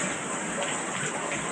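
Water drains steadily from an emptied camper toilet cassette, a continuous soft gushing splash up close with no talk.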